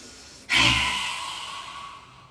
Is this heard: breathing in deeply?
yes